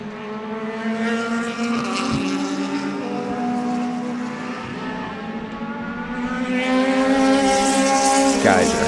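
Race cars at Sebring roar past in a continuous high-revving engine drone that swells louder toward the end, with no talk over it.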